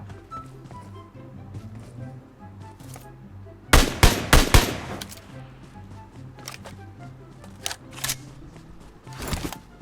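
Rapid AK rifle bursts crack out in PUBG Mobile, a tight cluster of four or five loud shots followed by scattered quieter single reports over a low in-game hum, with occasional talking.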